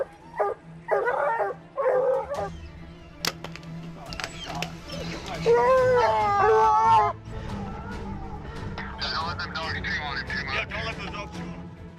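Hunting dogs used for pursuing mountain lions in Canada bark and yip in short bursts, some calls rising into whining yelps, mixed with people talking in the background.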